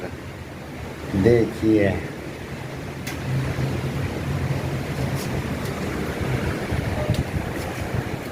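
Steady open-sea wind and wave rush heard from the deck of the Costa Serena cruise ship en route to Dubai, a constant broadband roar running beneath someone speaking Hindi throughout.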